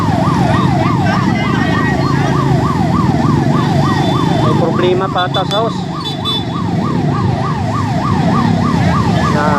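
A fire truck siren wails loudly and close in a fast, steady up-and-down cycle, briefly broken by a horn blast and traffic noise, while people talk underneath.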